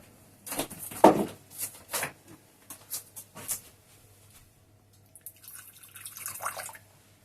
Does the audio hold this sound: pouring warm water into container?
yes